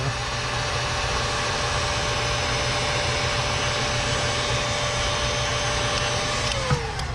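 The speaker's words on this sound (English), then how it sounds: "So now I'm going to heat that up again. Get the heat gun in there." A heat gun blowing steadily while heating a part to free it: a continuous, even fan-and-element whir at close range with a faint hum, holding level the whole time before a brief change at the end.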